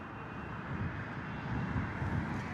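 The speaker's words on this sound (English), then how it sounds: "Turkish Airlines Boeing 777 is our next departure" A Turkish Airlines Boeing 777 departs Heathrow, its engines a broad, steady jet roar heard from a distance that swells slightly as it continues, with no voices.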